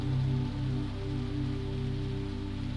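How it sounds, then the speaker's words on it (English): Steady rain patters continuously over a low, humming rumble of a 1920s train in motion, soft and even throughout. "The rain continues its song"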